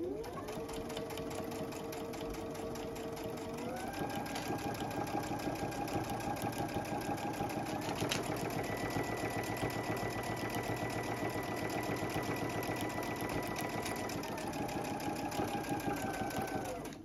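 A sewing machine runs a continuous edge stitch along a fabric bag, a steady close whirring hum with rapid needle clatter that shifts pitch slightly as it speeds up, with no voices over it.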